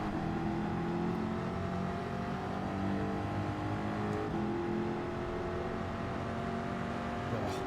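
Race cars accelerate in Gran Turismo 7 on the Deep Forest circuit, a steady, loud engine drone with layered harmonic whine that holds throughout with no talk.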